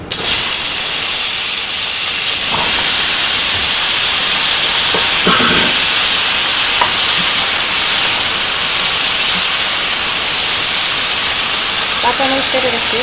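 Vegetables frying in the leftover fish-frying oil with cumin, in a village-style kitchen: a steady loud hiss and sizzle runs throughout, with a few brief clatters.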